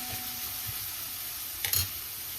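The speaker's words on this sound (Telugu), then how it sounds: "ఇది మంచిగా ఆనియన్స్ బ్రౌన్ కలర్ వచ్చేదాకా వేయించుకుందామండి." Onions frying in a pan with salt and turmeric make a steady, soft sizzle, with a brief louder scrape or stir near the end.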